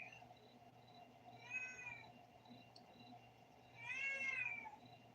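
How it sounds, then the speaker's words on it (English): A cat meows twice, a short call followed by a longer, drawn-out one a couple of seconds later, fairly faint over a low background hum. "This is cat talking to me. He wants to come out."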